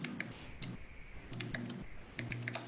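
Typing text into a notes field on a mobile application gives a quick run of close, light taps in short bursts, with brief pauses between the clusters.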